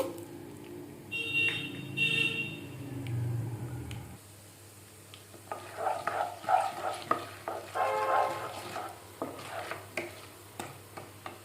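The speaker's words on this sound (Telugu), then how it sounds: "ఆయిల్ వేడెక్కింది ఆవాలు మినపప్పు అండ్ ఒక స్పూన్ వేసుకోవాలి శనగపప్పు" Mustard seeds, urad dal and chana dal in hot oil for Andhra-style raw banana curry, crackling and popping in close irregular bursts after a quieter opening.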